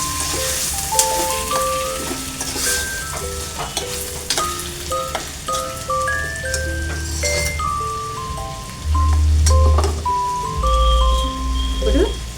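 Okra fish curry is stirred in a pan after salt goes in, a soft sizzle and scraping under background music, with a louder rumble of stirring near the end.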